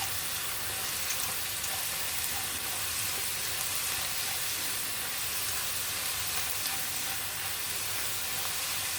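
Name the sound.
sautéing sliced shallots and garlic in oil in a pan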